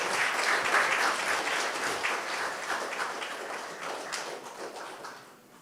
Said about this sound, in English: let's give Whitney Richardson a bigger round of applause, please